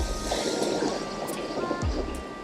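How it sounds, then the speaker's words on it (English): Ocean waves break and wash onto a resort beach on the Riviera Nayarit coast, a steady broadband roar of surf with some wind, fairly loud and continuous, no talk. "Look at the waves."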